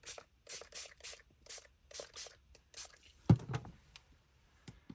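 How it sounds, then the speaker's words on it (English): A spray bottle mists liquid onto frayed burlap in a series of about seven short, evenly spaced bursts, followed by a single louder handling thump and some faint rustling. "a little bit of a spray"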